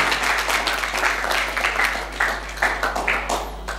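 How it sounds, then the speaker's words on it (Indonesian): A church audience applauds the worship leader, dense steady clapping from many hands over a low hum, continuing for several seconds. "Beri tepuk tangan buat pemimpin pujiannya."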